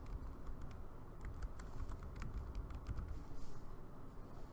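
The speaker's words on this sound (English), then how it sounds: "type in the folder name" Keys clatter on a computer keyboard as a folder name is typed, a quick, uneven run of soft close-up clicks over a low background hum.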